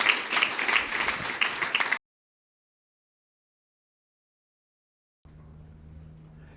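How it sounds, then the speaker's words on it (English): A seminar audience applauds at an SEO masterclass. A loud, dense burst of clapping lasts about two seconds and then cuts to silence, followed by a faint low hum. "Round of applause."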